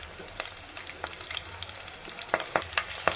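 Garlic and chillies frying in hot oil for a carrot tomato chutney, a steady close sizzle with sharp crackling pops that grow denser and louder toward the end.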